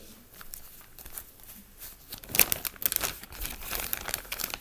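A plastic Ziploc bag holding germinating seeds is handled and opened up close, with faint rustles at first, then louder crinkling and crackling bursts in irregular clusters.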